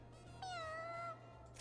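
A single clear cat meow, drawn out for under a second against a quiet background with a low steady hum.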